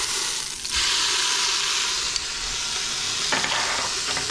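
Meat for birria tacos sears in an Instant Pot with a loud, steady sizzle, broken by a few scraping shifts as pieces are moved around with tongs; no one speaks.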